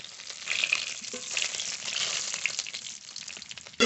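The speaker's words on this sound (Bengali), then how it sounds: "মাছগুলো খুব ভালো করে ভেজে নিয়েছি নামিয়ে নেবো" Fish sizzling steadily in hot oil, likely river tengra or tilapia, a continuous close crackling fry with small pops and no talk, ending in a sudden louder burst at the very end.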